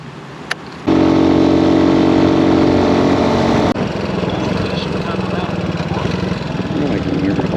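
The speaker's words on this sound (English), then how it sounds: "I guess my bike is too loud." A motorcycle engine starts up and runs loudly close by, a strong steady drone that drops slightly in level partway through and keeps going under occasional talk.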